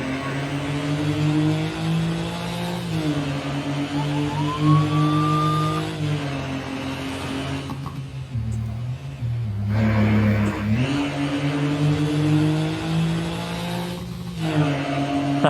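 A Porsche 911 engine in Euro Truck Simulator 2 with ProMods holds high revs against the rev limiter, giving a steady, buzzing drone that dips briefly before climbing back. It is loud and continuous, with no talking.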